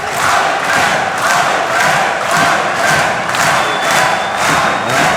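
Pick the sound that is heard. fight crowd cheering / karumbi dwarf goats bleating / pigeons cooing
fight crowd cheering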